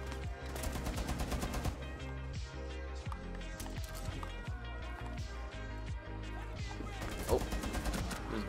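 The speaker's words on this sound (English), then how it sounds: "let's play with the LMG" Rapid light machine gun bursts fire in a Rainbow Six Siege match, dense and loud under a steady game soundtrack, with sharp impacts scattered throughout.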